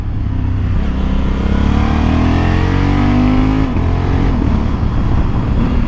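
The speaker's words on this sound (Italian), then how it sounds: "Vi faccio sentire un po' lo scarico adesso." Loud 2020 Honda Africa Twin 1100 Adventure Sports exhaust roaring steadily as the engine revs, then a downshift with crackling burble near the end, close and continuous.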